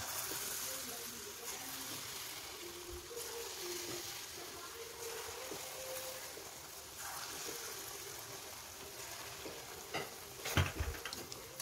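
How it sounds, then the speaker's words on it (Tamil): Sweet unni appam frying in hot oil, a steady bubbling sizzle running throughout with a few stirring clinks and knocks near the end, close and moderately loud. "இதே மாதிரி எல்லா அப்பத்தையும் நம்ம பொரிச்சு எடுத்துடலாம்."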